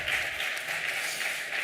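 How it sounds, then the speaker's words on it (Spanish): Audience at a cultural heritage conference in Aragón applauds the speakers, a steady wash of clapping from a room of people that holds evenly throughout the short moment. "un fuerte aplauso para los ponentes"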